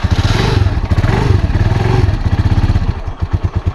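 A motorcycle tricycle engine with its starter firing up and running, loud and close with a rapid chugging beat that clatters, then settles into distinct slower pulses near the end.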